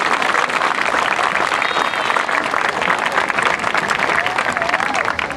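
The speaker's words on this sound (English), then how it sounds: "If you would, give those sponsors a round of applause." A crowd at an Ohio State Buckeyes fan gathering gives a loud, sustained round of applause for event sponsors, dense clapping with a few cheers heard throughout.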